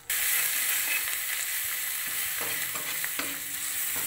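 Turmeric, Kashmiri chilli powder and split green chillies fry in a pan for peas ghugni, a continuous close hiss of hot oil with a few soft stirring scrapes, no voices.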